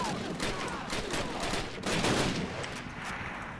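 Rapid bursts of gunfire from the Call of Duty: United Offensive video game, a dense, continuous fusillade of shots that keeps rattling through the whole stretch with no pause and brief speech mixed in.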